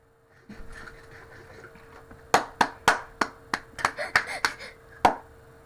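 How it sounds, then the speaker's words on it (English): Slow, deliberate clapping in a video game: about ten sharp claps with uneven gaps between them, close and fairly loud over a faint murmuring background. "slow clap."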